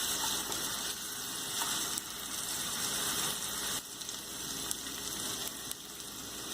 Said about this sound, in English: now I'm going to add ginger garlic paste, and we have to cook for 2 to 3 minutes with this ginger garlic paste